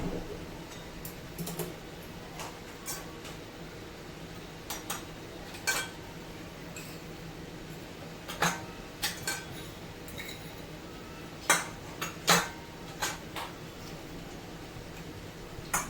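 Light metallic clinks and taps of a small pot of water set to heat on the stove beside an oiled kadhai, scattered irregularly over a quiet kitchen background, with a few sharper knocks near the end.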